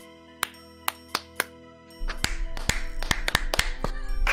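Several players in a Minecraft Origins SMP voice chat clap, starting with a few separate crisp claps, then a denser scatter of overlapping claps over a rising hiss of background noise.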